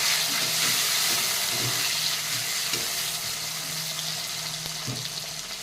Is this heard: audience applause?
no